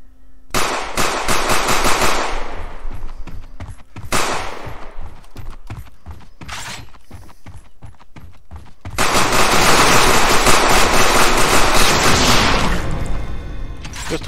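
Bursts of video game gunfire from a semi-automatic pistol, rapid cracking shots in clusters, with a long dense barrage near the end and short gaps between volleys.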